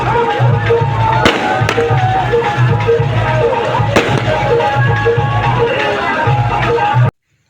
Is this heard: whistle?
no